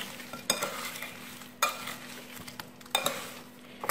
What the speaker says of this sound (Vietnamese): Và các bạn trộn đều lên.